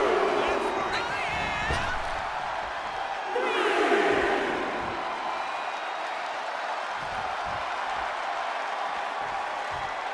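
A WWE 2K25 wrestling arena crowd cheering and roaring, swelling loudly mid-clip then settling to a steady din, with spoken commentary over it.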